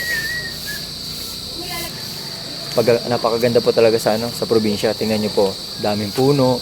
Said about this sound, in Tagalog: Tapos maririnig mo yung huni ng kuliglig.